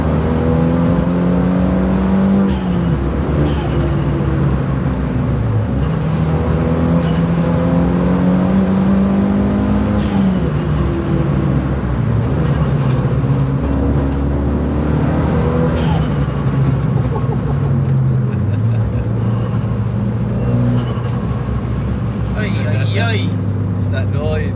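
Engine of a Renault Megane RS track car revs and pulls through the gears on a circuit, a loud droning note rising and falling in repeated sweeps, with people talking over it.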